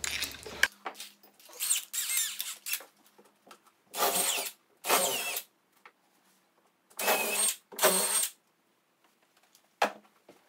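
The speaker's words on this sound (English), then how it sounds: "Now we're going to jump up to the big one and finish drilling those through now" Several short bursts of a power drill whirring as it drills holes in a wall, in separate pulses, close and loud, with quiet gaps between runs.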